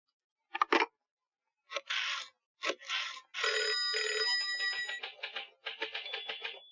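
A telephone rings in a 1990s Hindi film scene as a call is placed: a few short, separated bell bursts, then a longer steady ring, clear and moderately loud, with no one talking.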